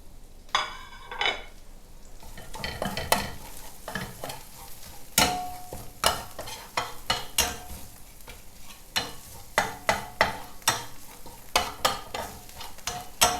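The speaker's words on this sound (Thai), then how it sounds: "จากนั้นใส่พริกแกงที่เราเตรียมไว้ทำลงไปผัดเลยค่ะ" Homemade curry paste is stir-fried in a pan for spicy pork belly with eggplant. A spatula scrapes and tosses in steady, repeated close strokes over a continuous sizzle.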